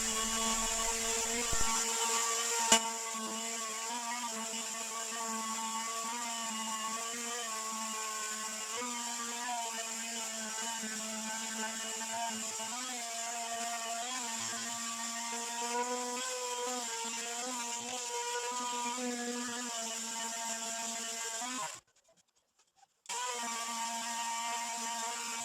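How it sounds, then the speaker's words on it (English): Orbital sander fitted with 40 grit paper smoothing the rough cooking surface of a modern Lodge cast iron skillet, a steady loud high whine with grinding overtones running continuously, cutting out briefly near the end before resuming. "Now I'm going to take this 40 grit on my orbital sander and smooth out the whole surface."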